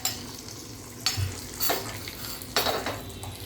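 A curry-leaf tadka is stirred into rice, with soft sizzling under several scraping strokes of a spoon against the pan and faint clinks of cookware, heard up close.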